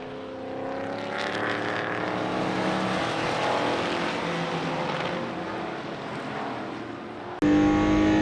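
A Porsche 964 race car at Brands Hatch during Speedfest 2023, its engine note loud and sustained with steady harmonic drone, swelling and easing through corners before an abrupt cut to a sharper, louder engine sound near the end.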